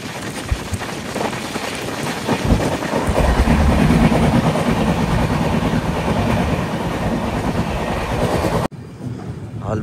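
The AP Express (Visakhapatnam to New Delhi) arrives at Warangal railway station with loud, close rolling wheel rumble and rhythmic clickety-clack from inside the train, cutting off abruptly near the end.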